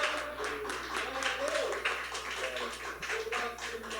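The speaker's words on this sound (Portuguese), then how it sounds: "Por isso as palmas ao nosso Deus." A church congregation claps along during a Sunday worship service, rhythmic hand claps in a steady beat mixed with singing voices and a low background hum.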